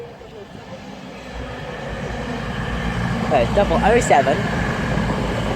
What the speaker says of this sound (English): Arriving in is an East Midlands train service.